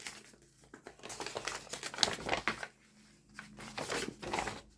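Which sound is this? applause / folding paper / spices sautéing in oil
folding paper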